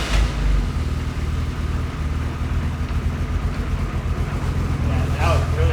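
A Ferrari F355 engine idles roughly with its idle air valve unplugged, a steady low rumble running the whole time beneath people talking nearby.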